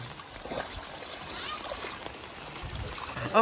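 Floodwater from heavy rain in Thoothukudi rushing like a river, a continuous churning splash and flow heard close by, fairly soft, with a voice talking over it.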